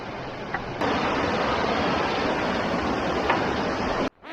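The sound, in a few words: river water while crossing a river on a jungle hike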